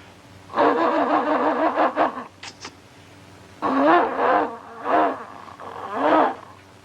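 A voice imitates a car with a flat battery: a long groaning, wheezing crank, a pause, then three weaker sputtering attempts.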